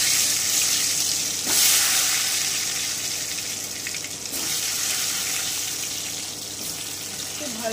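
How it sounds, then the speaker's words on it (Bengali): Potatoes fry in hot oil in a wok, giving a steady hissing sizzle with a few scraping stirs throughout. "এই যে আমার কিন্তু আলুটাও ভাজা হয়ে গেল"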